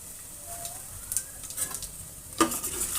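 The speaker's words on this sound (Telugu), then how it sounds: "ఇవి కొంచెం వేగిన తర్వాత ఈ కచ్చాపచ్చాగా దంచుకున్న వెల్లుల్లిపాయలు వేసుకోవాలి" Crushed garlic sizzles in hot oil in a pan while tomato rasam is being made, a soft steady frying hiss with a few sharper crackles and stirring scrapes.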